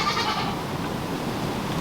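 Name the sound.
goat bleating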